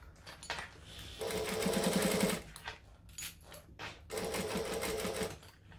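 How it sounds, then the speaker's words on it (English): A sewing machine top stitches a clutch bag at a slow pace. Two steady bursts of rapid needle chatter are separated by a short pause and quieter handling noises, all close and fairly soft. "You don't want to put your foot down while top stitching because you're going to get uneven stitches."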